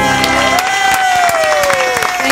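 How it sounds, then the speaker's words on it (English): Studio audience applause, a loud continuous wash of clapping with a few cheers, while a man sings a held, sliding note over it. "that's a long applause"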